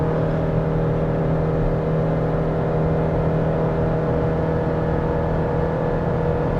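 A 2024 Chevrolet Colorado Z71 pulls hard uphill under full throttle while towing a heavy load, its engine droning at a steady, loud, unchanging pitch with constant road and wind noise and no talk.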